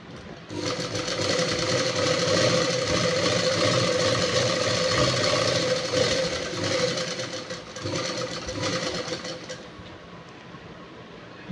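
A sewing machine stitches in a steady, fast, continuous whir close by for about ten seconds, then slows and fades out near the end.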